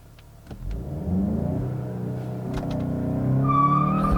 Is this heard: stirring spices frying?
no